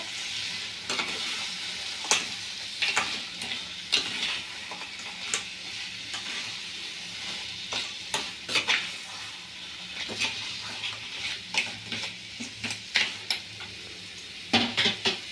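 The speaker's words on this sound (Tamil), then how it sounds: "இப்போ நம்ம க்ளீன் பண்ணி வச்சுருக்க நண்டை போட்டுக்கலாம். மிக்ஸ் பண்ணி விட்டுக்கோங்க." Cleaned crab is added to a pan of fried masala and stirred, giving a steady close sizzle broken by repeated sharp scrapes and clinks of a utensil against the pan.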